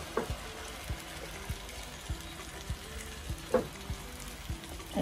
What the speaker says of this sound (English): Now I'm going to start frying the pepper.